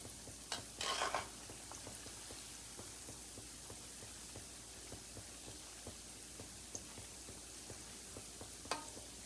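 Gulgule, sweet fritters of jaggery, flour and semolina, deep-frying in oil over slow heat, giving a steady soft crackling sizzle with a brief louder burst near the start and a sharp pop near the end.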